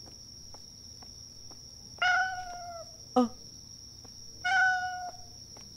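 Two drawn-out cat meows from a video game set in a spooky bathhouse, spaced a couple of seconds apart over a steady high insect-like drone, with a short exclaimed voice between them.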